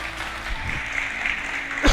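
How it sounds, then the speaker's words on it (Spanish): A church congregation claps for the Lord after a scripture reading, a steady, moderately loud wash of applause ending with a brief thump. "la recibimos con un fuerte aplauso al Señor"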